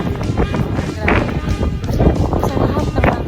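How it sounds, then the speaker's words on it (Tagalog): Strong wind blowing at Canyon Woods Resort Club in Batangas, a steady loud rushing buffet across the microphone with a voice speaking over it. "Sobrang hangin."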